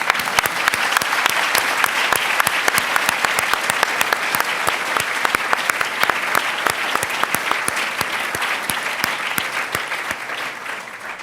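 Loud, sustained applause from a lecture audience welcoming Christine Lagarde, many hands clapping steadily before gradually thinning toward the end.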